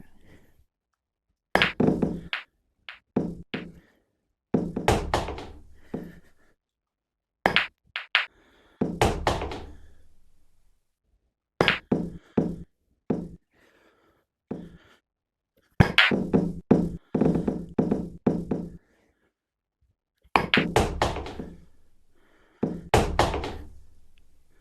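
Virtual pool balls in the Miracle Pool mixed-reality game on Meta Quest 3 give sharp, close knocks and clacks in irregular clusters, repeated shot after shot with short silences between.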